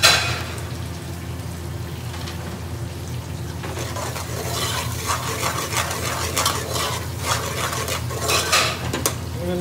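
Onion and green chilies stirred in a pan with butter and garlic, loud scraping and clattering of a utensil against the pan over a continuous low sizzle, close and busy throughout with no speech.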